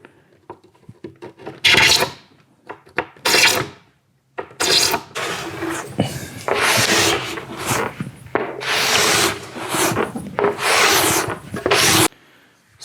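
Wax is scraped off a surfboard in long, firm rasping strokes, loud and close, in several bursts separated by brief pauses, with a woody grinding texture and no speech.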